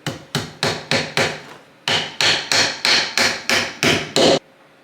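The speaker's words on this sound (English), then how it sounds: "The hammering works much better on an actual hard surface rather than the carpet" Sharp hammer blows drive nails into wooden beehive parts on a hard surface, about a dozen crisp, evenly spaced strikes in two quick runs.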